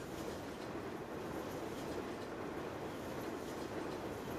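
A train rolls past in the farming game Farming Simulator 17, a steady broadband rumble of wheels and wagons holding at constant loudness throughout, with no speech.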